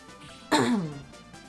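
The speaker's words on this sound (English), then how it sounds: "Sorry if I'm coughing a lot." A single rough allergy cough or throat clear bursts out close and loud, then fades over half a second against quiet room noise.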